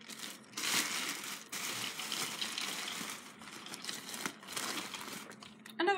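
Plastic packaging crumpled and crinkled by hand while opening a mail parcel of vintage Polly Pocket toys, a steady close rustle with a few sharper crushing bursts and no talk.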